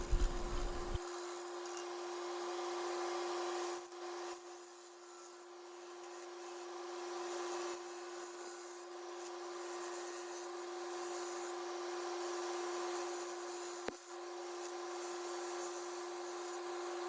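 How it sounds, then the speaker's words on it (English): Wood bowl turning on a lathe with a Carter & Son bowl gouge taking light balancing passes: a steady motor hum with soft, continuous scraping and rubbing of the cut, held at an even, moderate level throughout. "take some light passes to get it in balance. Using a Carter & Son bowl gouge here."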